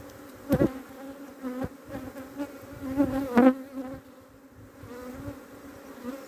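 A soft, steady hum of honeybees buzzing around a hive during a spring inspection in April in Adana, with a few brief knocks and clicks nearby, fairly quiet overall.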